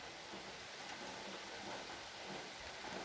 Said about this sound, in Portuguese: Mostrar pra vocês aqui que está chovendo, tá com mais de 20 minutos.